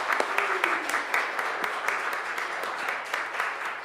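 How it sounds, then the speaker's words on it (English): Audience applause at a church Christmas concert for the performers and concert team, a steady wash of clapping with sharp individual claps standing out, moderately loud and continuous throughout. "take the chance to clap for them"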